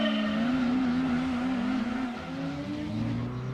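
A car engine hums smoothly in Gran Turismo 2 on the Autumn Ring circuit, a steady tone that rises slightly, then drops in pitch as a gear changes, heard alone with no talk.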